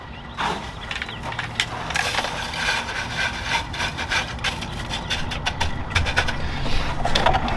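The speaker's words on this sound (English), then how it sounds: "We're going to put some big soil in first. This is going to be that real good drain layer." Coarse bonsai soil poured into a pot as a drainage layer for a ninebark repot, a steady gritty rattling and rushing of granules that runs continuously and close, with no talk.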